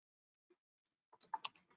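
Keys on a computer keyboard tap quietly: two isolated clicks first, then a quick cluster of closely spaced keystrokes, close and soft, in an otherwise quiet room.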